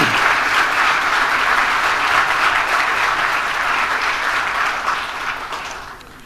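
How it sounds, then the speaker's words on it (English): A full crowd at the Bermuda Sports Awards 2013 applauds loudly and continuously, a thick wash of clapping that holds steady, then fades out near the end. "give all of yourselves a round of applause"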